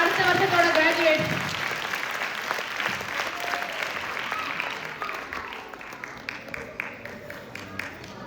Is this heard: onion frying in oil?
no